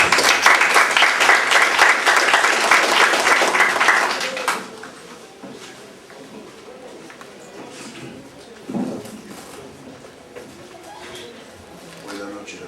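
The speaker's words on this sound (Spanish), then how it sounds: "Lo recibimos con este aplauso." An audience at a book presentation at a university journalism school claps in a dense burst of applause lasting about four seconds, then dies down into quiet room noise and faint murmuring.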